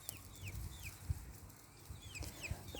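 Roosters and hens cluck softly while picking at scraps, with scattered quiet clucks and short calls over low farmyard background.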